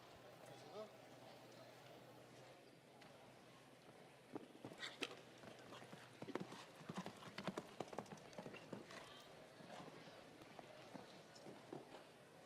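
Horse hooves thudding over the turf of a 5-star Grand Prix show jumping course, with a run of clip-clop hits building midway, heard under steady commentary.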